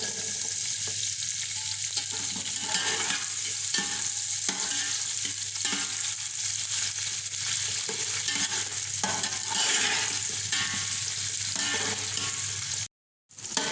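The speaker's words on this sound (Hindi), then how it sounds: "अब इसमें मैं 1 कप ऑयल डालूँगी ताकि प्याज लाल हो जाए, फ्राई हो जाए" Onions frying in about a cup of oil for bhindi masala, a loud continuous sizzle with intermittent stirring scrapes, ending in a brief silent gap.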